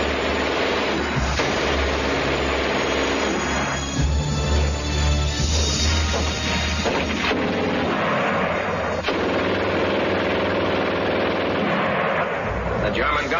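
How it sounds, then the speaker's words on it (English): German machine gun firing in a historical war documentary, loud rapid bursts over a dense rumbling soundtrack with narration mixed in. "The German gun used to shoot fast."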